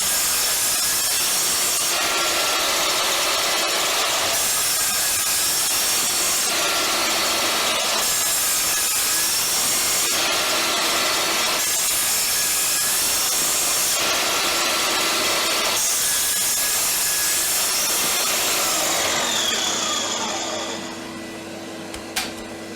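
A miter saw set to a 26.5 mm depth cuts wood tenons for pen legs in repeated passes, loud and close, each cut separated by short pauses, with the motor spinning down at the end. No one speaks.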